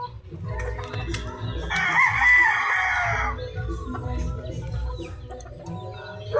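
Chickens cluck in a backyard coop while a rooster lets out one loud, strained crow near the middle, close by, with a few more clucks and faint rustling around it.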